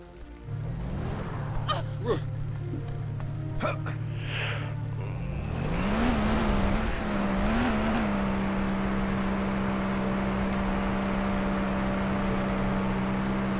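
A car driven in a Jurassic World video game, its steady engine hum rising as it accelerates and then holding a constant drone.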